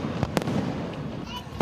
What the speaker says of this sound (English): I'm getting all the benefits of, the big fireworks at the Queen Mary.